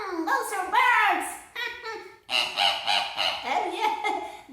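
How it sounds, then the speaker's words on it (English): Parrots screeching in a jungle scene: a run of loud, harsh, rising and falling squawks that overlap one another and continue throughout, close by and with no talk over them. "these are parrots. Parrots, yes, parrots. And they are screeching in our ears."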